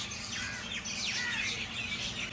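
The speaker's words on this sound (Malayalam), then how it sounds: "കളകളാരവം കേൾക്കാം, കളകളാരവം" Birds chirp and squawk in trees at dusk during an outdoor outing, with several bright, sweeping calls repeating at moderate distance over a steady low background hum.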